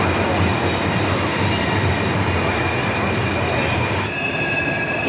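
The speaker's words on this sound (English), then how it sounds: "Here we can see the helper set pushing the train up the hill as he passes Horseshoe Curve." Long freight train climbing Horseshoe Curve with a helper locomotive set pushing at the rear, a loud steady rumble of rolling railcars with wheel squeal and rail clatter close by, no voices.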